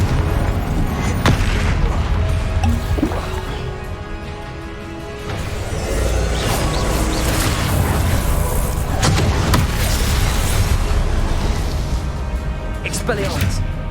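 Repeated blasting-spell explosions from combat in the video game Hogwarts Legacy, heavy booms and crashes recurring every few seconds over a dense, loud battle din with voices mixed in.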